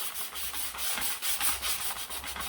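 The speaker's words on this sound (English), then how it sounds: "after I sand a piece like this where it's already smooth" A wooden piece that is already smooth is being hand-sanded in steady back-and-forth strokes, each one a soft, close scratchy rasp, with no voices.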